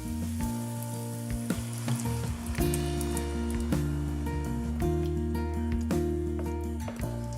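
Garlic and about a kilo of chopped tomatoes sizzle steadily in a pan while being stirred, a continuous close frying hiss broken by scraping and clattering stir noises, with no talking.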